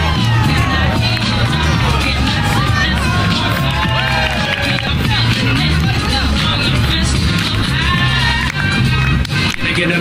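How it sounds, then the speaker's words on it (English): A crowd watching street performers in Times Square at night fills the scene with constant loud babble, shouts and cheering, with no quiet moments. "And check out this crowd right here."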